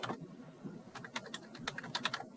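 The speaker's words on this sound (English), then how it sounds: "And then we can type in our signature line." Typing on a computer keyboard while entering an Outlook email signature line, a quiet run of irregular, close key clicks that grows busier after the first second, with no voices.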